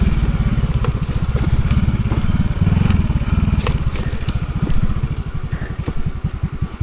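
A motorcycle engine putters with a rough, uneven rumble and rattling bumps on a rough mountain backroad near Baguio City, steady and close throughout.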